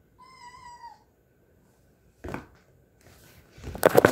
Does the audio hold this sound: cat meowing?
yes